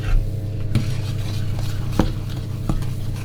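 Pink food stirred in a bowl, a steady scraping churn with a few sharper clinks of utensil against the bowl, close and continuous with no talk.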